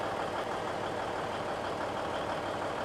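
Low, continuous rumble of a big diesel semi truck engine idling steadily in a farming video game, with no talk over it.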